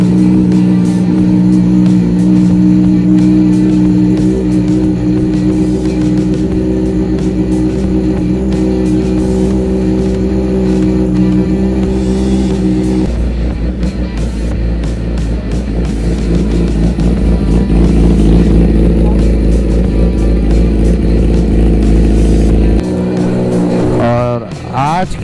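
Motorcycle engine cold-starting and idling loud and close, a steady throbbing drone with rising revs partway through, before a group riders' meetup ride in Uttarkashi; people talk over it.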